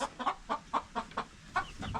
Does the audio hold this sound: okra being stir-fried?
no